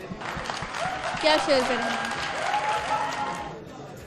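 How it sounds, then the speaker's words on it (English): Studio audience applause at a mall quiz show in a shopping centre, a steady broad wash of clapping lasting several seconds under a host's voice, swelling slightly midway and fading toward the end. "Clapping करें अपने लिए."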